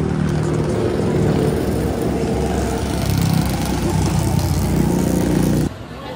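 A motorcycle engine passes nearby, a loud, rough continuous drone that rises slightly in the middle and then cuts off abruptly near the end, with outdoor ambience during a Hari Raya outing.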